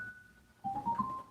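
A keyboard set to a marimba voice plays a few soft, short mallet-like notes after a sustained tone, quiet and close with no talking.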